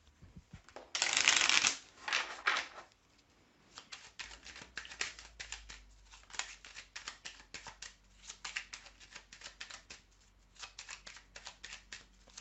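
Belline oracle cards being shuffled by hand, a loud riffle burst near the start followed by a run of quick crisp card slaps and flicks, close and alone.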